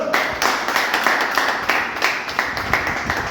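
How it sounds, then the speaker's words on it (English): Applause from a small audience at a Toastmasters club meeting in East Delhi, a steady patter of hand claps running continuously at moderate loudness, with no talking over it. "Let's have a round of applause once again for the timer."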